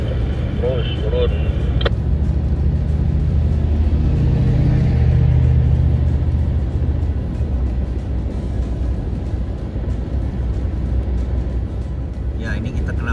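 A car drives slowly at about 40 km/h through a snowstorm on the road toward Anchorage, without winter tyres, giving a steady low engine and road rumble throughout with brief faint clicks.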